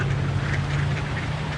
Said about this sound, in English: They're my Christmas ducks